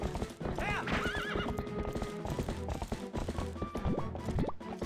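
Epona, the horse in Twilight Princess HD, clip-clops at a steady gallop with a neigh and whinny near the start, and hoofbeats run throughout at close range amid game music.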